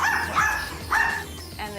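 A small dog named Jakey barks sharply behind a front door mail slot, two or three high yapping barks with a short whiny yip at the end, close and loud.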